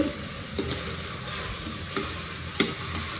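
Mushrooms stirred and frying in a pan for mushroom biriyani: a steady close sizzle with a few sharp scrapes of the spoon against the pan, no voices.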